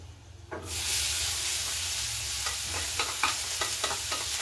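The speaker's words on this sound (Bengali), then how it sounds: "পেঁয়াজটাকেও একটু ব্রাউন করে ভেজে নেব" Chopped onion hitting hot oil with browned garlic for butter garlic mushrooms, a sudden loud sizzle that settles into steady frying hiss, with repeated stirring scrapes close by.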